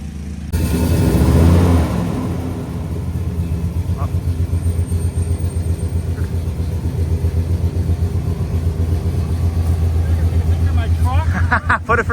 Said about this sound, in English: We are going to fire it up now and then drive it.